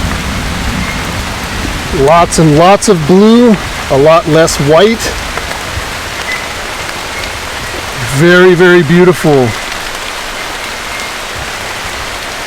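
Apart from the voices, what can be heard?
heavy rain falling in rainforest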